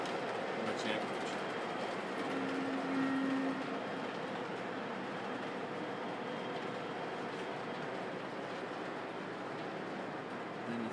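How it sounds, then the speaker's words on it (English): Model trains running on track loops, with a continuous, fairly quiet rumbling hum of motors and wheels on rails throughout and no talking. "you can put two trains on each loop, and I've done that"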